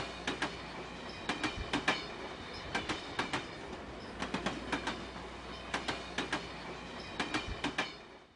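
A model train runs along the track at a model railroad layout, its wheels clicking over rail joints in regular paired clacks that repeat steadily over a low continuous rolling hum, fairly close.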